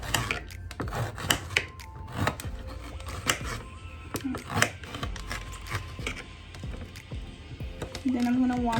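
A knife slicing through a green pepper from the side on a cutting board, giving a run of close, crisp chopping taps and small squishy cuts, with no talking.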